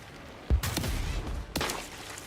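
Two loud bursts of gunfire ring out about a second apart in the Warhammer 40k Dark Heresy video game, aimed at floating skulls, each followed by a trailing echo.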